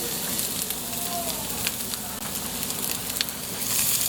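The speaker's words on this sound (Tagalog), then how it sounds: "So, continuously saute po natin sila hanggang mag-brown na yung bawang." Garlic and onion sautéing in a pan give a steady, close frying sizzle with scattered small crackles and pops, continuing evenly and rising slightly at the end.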